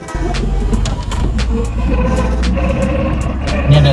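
Loud, continuous drone and rumble from the transmission of a small, tough-looking 600 cc car while driving, heard from inside the cabin, steady throughout.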